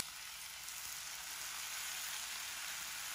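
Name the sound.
tomato and onion frying in a pan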